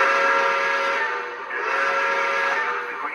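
A high, breathy toy train whistle sounds in two long blasts, airy and hissing, close and fairly loud with a brief dip between them.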